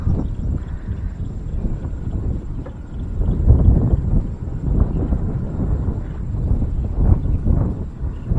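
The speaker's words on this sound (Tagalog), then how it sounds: "Taas ng hangin, sarap." Steady wind rushes and rumbles across the microphone throughout, a low continuous buffeting with no voices.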